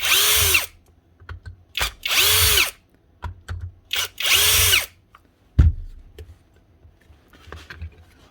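A power drill backs out screws while a Milwaukee power tool is taken apart for repair, in four loud whirring bursts of about a second each with short pauses between, then a clack and faint handling noises.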